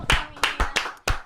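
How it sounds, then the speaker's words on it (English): Several sharp claps ring out in a sparse, uneven rhythm, a small round of applause in a room for Lana, close and fairly loud with no talk. "Can we give her a round of applause"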